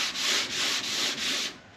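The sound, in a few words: sanding a car door by hand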